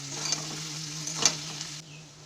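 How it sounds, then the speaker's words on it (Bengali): Banana flower curry with meat masala sizzles in a pan, a steady frying hiss with a couple of soft stirring scrapes, close and fairly quiet, the sizzle easing near the end. "মিট মশলা দিয়ে আবার ভালোভাবে কষিয়ে নেব"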